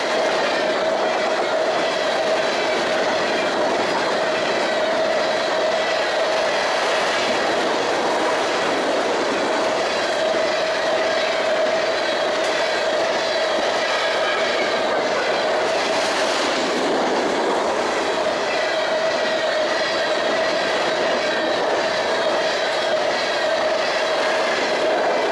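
Freight train on the CN Hinckley Subdivision rolling past at close range, a loud continuous roar of wheels and cars with rhythmic clacking and a faint squeal, steady throughout with no voices.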